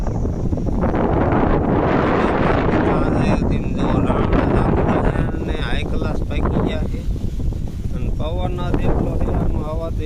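Strong wind buffets the microphone in loud, rough gusts while a person talks over the roaring, rumbling air.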